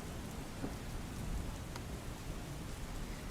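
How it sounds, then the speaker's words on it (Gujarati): Heavy rain falls steadily during a monsoon downpour in Gujarat, a dense even hiss that holds at constant strength with no voices. "વિવિધ જિલ્લામાં વરસાદ પડી રહ્યો છે"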